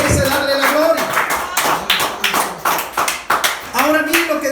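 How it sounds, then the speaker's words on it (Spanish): A church congregation claps in a quick, uneven rhythm during a service, with a voice speaking over the clapping. "Vamos a aplaudirlo, apláudalo, porque merece darle la gloria."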